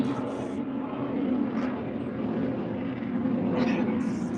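An airplane flies overhead as a steady, broad engine roar that holds throughout at fairly loud level, with faint background voices.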